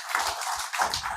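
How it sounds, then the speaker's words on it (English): Audience at an ICT training and parents' meeting applauding, a dense wash of clapping with short dips in intensity over about a second. "Please give him a round of applause."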